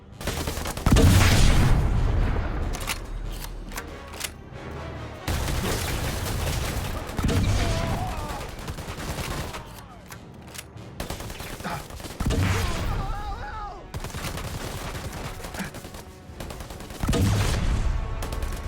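Grenade launcher firing in the video game Predator: Hunting Grounds, a run of loud, booming blasts with repeated explosions across the stretch, some gunfire mixed in and game effects in between.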